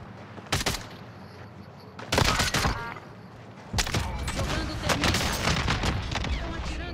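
Bursts of gunfire from a modern military shooter, Call of Duty: Modern Warfare, loud cracking volleys in short clusters then a sustained rattling stretch, with game effects underneath.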